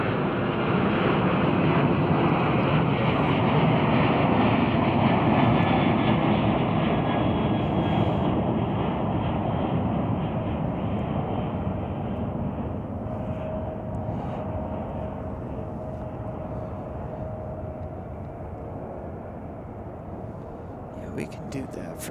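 A United Airlines jet airliner takes off from Chicago O'Hare, bound for New York, with a steady broadband engine roar that is loud at first and slowly fades as it climbs away. Voices talk over it.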